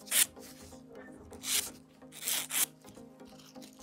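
An acrygel/polygel nail being filed by hand, giving four short close rasping strokes in an uneven rhythm against a quiet background, no talk.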